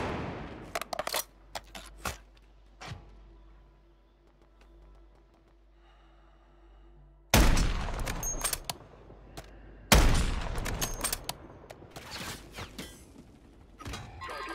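Scattered video game gunfire in a Call of Duty Warzone Resurgence match on Vondel, sharp shots early on, then loud dense bursts of rapid firing in the second half.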